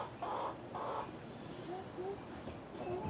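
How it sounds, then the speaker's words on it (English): Birds call from a backyard tree beside a chicken run and banana plants, with crow-like caws and shorter chirps repeating over a steady outdoor hiss. "This is quite a haven for all the different birds that come around here, this tree."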